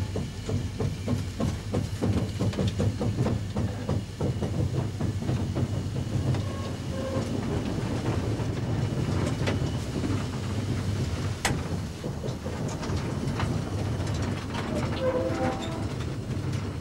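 A steam locomotive moves off, and train rumble with rhythmic clanks and rail clatter carries on steadily. Sharp metallic knocks and a faint hiss sit over it at moderate distance.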